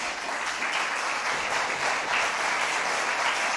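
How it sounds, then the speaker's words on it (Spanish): A church congregation gives God a round of applause during a Spanish-language sermon, producing steady, dense clapping that fills the room at moderate loudness, with no talking over it. "Dele un aplauso a Dios"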